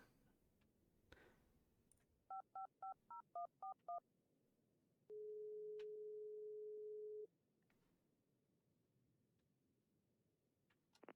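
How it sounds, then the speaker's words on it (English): An old-fashioned telephone being dialed in a horror adventure game: a quick run of eight short dial tones, then a steady ringing tone lasting about two seconds, over quiet room ambience. "Phone book. Oh, this is old-timey phone."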